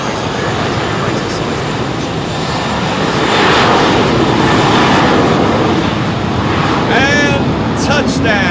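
A Finnair Airbus A320 jet touching down at London Heathrow, a loud, close, continuous engine roar that swells midway, with people talking over it.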